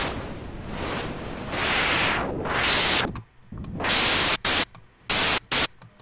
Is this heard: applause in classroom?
no